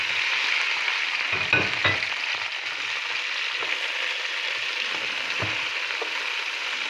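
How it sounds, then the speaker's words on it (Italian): Prawns sizzle in hot oil with garlic in a pan, a steady close hiss with a few sharper crackles and spatters near the start, then settling into an even fry. "l'aglio si sta riscaldando e adesso ci buttiamo i nostri gamberi"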